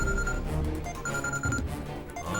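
A telephone rings with a continuous repeating electronic tone, loud and close, filling the short stretch in a Hindi film scene where a call from the lawyer comes in, with no talk over it.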